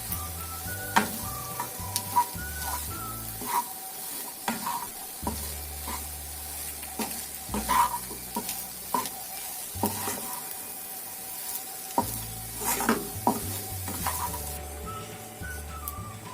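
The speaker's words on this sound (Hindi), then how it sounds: "अब इसमें हम ये हरी मिर्च डालेंगे और ये धनिया डालेंगे अपना। हमारी फिलिंग अब बिल्कुल तैयार है। इसको मिक्स कर लेंगे।" Potato samosa filling with green chilli and coriander stirred in a pan, giving a steady sizzle with scraping and stirring strokes, close and continuous with no talking.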